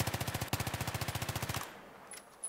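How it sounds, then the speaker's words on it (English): Rapid burst fire from an M5K submachine gun in Battlefield 3, a steady stream of about twenty evenly spaced shots over a second and a half, then abrupt silence with faint game sounds. "That I bursted. That was a mini burst, but look where it ended up."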